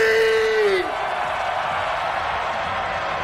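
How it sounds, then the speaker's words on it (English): Festival crowd at Ultra Music Festival in Miami screaming with hands in the air, a loud sustained roar of many voices under a brief tone that slides away in the first second. "put your hands in the air and scream"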